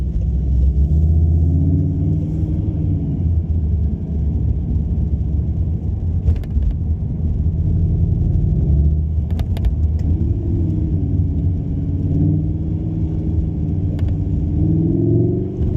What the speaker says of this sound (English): It sounds good from the back for a four-cylinder engine with that back box.